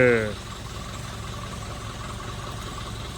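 A car engine idles with a steady low hum inside the vehicle during a family road trip to Velankanni, with a brief tonal sound fading at the start and no talk.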